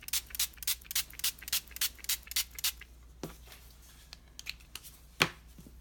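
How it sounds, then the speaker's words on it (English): About ten quick spritzes of a spray bottle wetting paper for a watercolor background, in a steady rhythm, close and crisp, followed by quieter paper rustles and one sharper tap. "So I'm going to just spray it and get it really wet."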